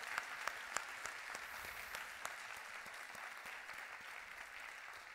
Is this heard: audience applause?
yes